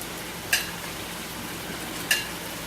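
Meat sizzles in a paella pan, a steady frying hiss with two sharp clinks as pieces are dropped in, close and without talk.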